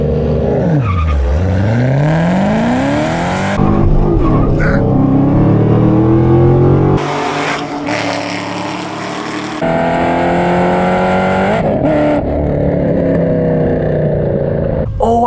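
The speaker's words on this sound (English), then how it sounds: "As you saw, I stalled doing the burnout." A Chevrolet Camaro ZL1 with automatic transmission doing a burnout at the track, its engine loud and close, revving up and down in sweeping pitch rises and falls with tire squeal, a brief drop partway through before it roars again.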